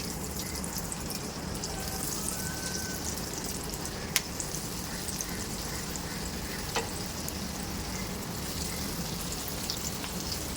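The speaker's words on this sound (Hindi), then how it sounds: "बहुत ही कम ऑयल के अंदर अभी हम इसको शैलो फ्राई करेंगे" Vegetable potato cutlets shallow-fry in a little oil with a continuous close sizzle, dotted with a few sharp pops and ticks, and no voices.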